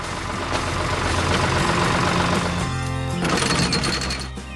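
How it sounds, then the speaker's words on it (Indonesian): A large tractor engine works hard plowing soil in a 3D cartoon farm scene, giving a steady, loud, continuous mechanical rumble and clatter that holds throughout and eases slightly at the end. "Traktor itu sedang bekerja keras membajak tanah"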